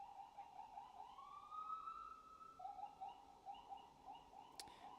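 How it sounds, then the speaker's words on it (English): An ambulance siren wails faintly in the distance as it passes, a thin wavering tone held over quiet background noise, with no voices. "Sorry, ambulance."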